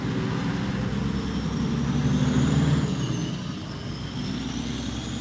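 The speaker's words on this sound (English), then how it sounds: "I'm going to let this heavy truck by." A heavy truck rolls past an intersection, a loud, steady low engine rumble swelling to a peak near the middle and easing off as it goes, with no voices.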